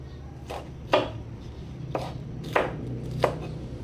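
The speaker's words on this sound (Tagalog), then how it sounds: "Chop natin ng maliliit." Vegetables are being chopped into small pieces with a knife, giving five or so sharp, separate thuds on a board at an uneven pace over a low background hum.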